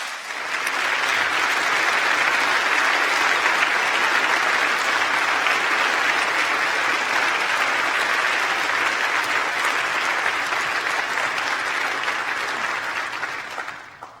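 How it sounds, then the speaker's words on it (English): A large hall of graduates, family and friends at a winter university graduation ceremony applauding the staff: a dense, roaring wall of clapping that swells in, holds evenly loud for over ten seconds, then tapers off at the end. "join me in applauding our outstanding staff and all that they've done to"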